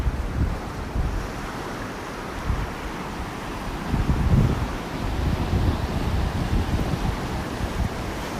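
Rough ocean waves breaking on a beach in the early morning, a loud continuous surf roar with wind buffeting, swelling midway through.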